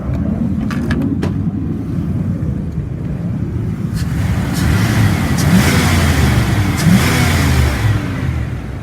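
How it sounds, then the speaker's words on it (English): A 1999 Dodge Ram 3500 enclosed utility truck with automatic transmission revs up from idle, its engine note rising and holding loud and steady close by, with a few faint clicks early on. "I'm gonna rev it up so you can hear it."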